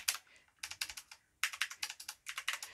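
Keys clack on a Taiahiro retro typewriter-style mechanical keyboard, close and crisp, in quick bursts of several strokes separated by brief pauses.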